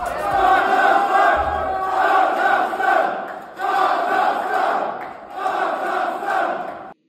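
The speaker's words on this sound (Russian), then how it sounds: "Студенты одного из вузов в Астане буквально устроили перекличку в общежитии." Kazakh university students in an Astana dormitory shout a rhythmic roll-call chant together after a football win over Finland, loud crowd voices rising and falling in repeated waves.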